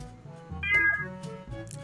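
Cat meowing in a road-trip video game: a clear, drawn-out meow close up, with a few fainter meows and chirps around it over a low background hum.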